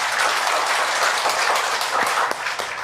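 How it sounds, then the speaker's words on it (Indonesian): An audience at a motivational talk claps together in a dense, steady burst of applause that holds at an even level and eases slightly near the end. "Tepuk tangan untuk Bapak Ibu semua."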